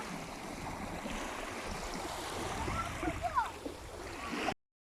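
Broad, steady wash of sea waves with a rising surge and splash before cutting off abruptly.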